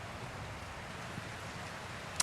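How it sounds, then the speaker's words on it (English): Gentle, soft rain falls steadily with a faint, even hiss of drops, quiet and diffuse throughout, ending with one brief sharp tick nearby. "It's nice and soft and gentle rain."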